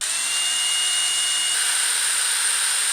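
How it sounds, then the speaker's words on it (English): A power tool whines at a steady high pitch while loosening the tail light bolts on a Kawasaki Ninja or Z650 motorcycle, a continuous close drill-like tone with no pauses or voices. "Next, we're going to need to remove the tail light, which is these 2 bolts here."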